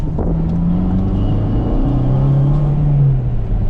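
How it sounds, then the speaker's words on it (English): A car engine revving during a manual-transmission downshift, a loud close low rumble whose pitch drops, dips and rises again as the revs change. "So that's downshifting for power."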